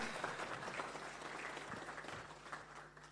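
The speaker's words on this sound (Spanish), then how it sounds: "Muchas gracias a Carlos de Miguel, con un fuerte aplauso, por favor, por esta conferencia magistral." An audience applauds after a keynote lecture at a conference, a faint, even spatter of many hands clapping that carries on steadily and dwindles slightly toward the end.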